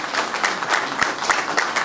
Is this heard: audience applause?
yes